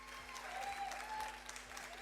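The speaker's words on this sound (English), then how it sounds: "I'd love a big round of applause from Chao from Jack Daniel's" Audience applause from a conference crowd at a marketing festival, a steady wash of clapping that holds evenly for a couple of seconds, moderately distant, with faint background voices mixed in.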